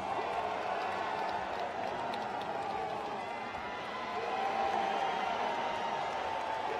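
A crowd at the Arnold Strongman Classic cheers and roars steadily for Hafthor Bjornsson's lift attempt, a sustained and fairly loud wall of voices under the announcer's commentary.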